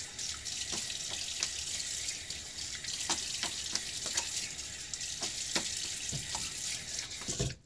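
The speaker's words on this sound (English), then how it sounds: "We'll rinse now." A razor is rinsed under a running tap, a steady hiss of water with scattered splashes and taps as the blade moves through the stream, close up and without talk.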